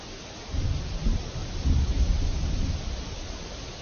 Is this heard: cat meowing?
no